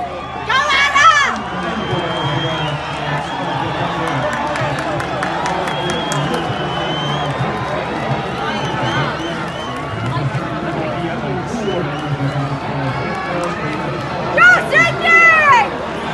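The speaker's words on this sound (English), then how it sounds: "going past what is a very noisy crowd here in Doha" A very noisy crowd at a girls' JV 4x100m relay race in Doha makes a steady roar of cheering and babble, with louder shouts rising near the start and end, all without clear speech.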